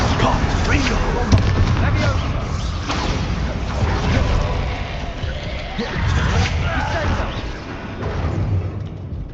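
Repeated fiery Confringo spell blasts burst in a Hogwarts Legacy fight, loud dense booms and crackles layered over busy game action with no clear pauses.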